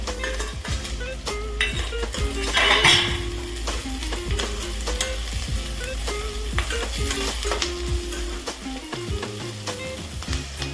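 Capsicum stir-fried with onions in a pan gives a steady sizzle overlaid with frequent metallic clinks and scrapes of a spoon against the pan, close and rhythmic.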